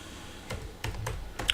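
Quiet computer keyboard typing while writing PHP code: a few separate key clicks spaced out over a second and a half, close and soft, with no voices.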